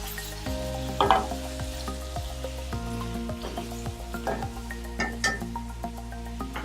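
Chicken pieces frying in a pan with garlic and ginger for a spicy biryani, a steady close sizzle with a few soft stirring clinks and splutters, no voices.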